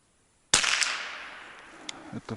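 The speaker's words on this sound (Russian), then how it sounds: "Сейчас еще контрольный выстрел сделаю." A single sharp shot from a rifle firing an SKM bullet cracks out loudly in the taiga, then rings off in a long fading echo; a fainter knock follows near the end.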